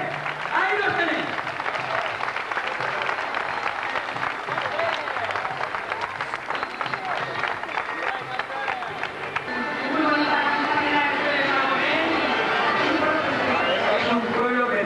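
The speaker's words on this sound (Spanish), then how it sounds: "Y nos diferenciamos porque aplaudimos igual al último que al primero." A crowd applauds at the finish of a walking race in Sueca, with sustained clapping that swells in the second half while someone speaks over it.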